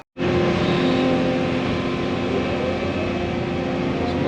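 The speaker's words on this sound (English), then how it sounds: "let me jump on the skid steer, go ahead and finish moving that right there" A skid steer loader moves fill dirt while a pond dam is rebuilt, its engine droning loudly and steadily throughout, with the machine working close by.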